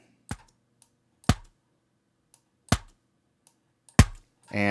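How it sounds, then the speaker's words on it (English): A video game wall hit sound effect from a Wwise Roll a Ball Unity demo, played four times as sharp, close, punchy thuds spaced about a second apart, with one more beginning at the end. "Here is our wall hit."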